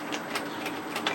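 A sewing machine stitches hoodie fabric in a quick, even rhythm of soft mechanical ticks, close and fairly quiet.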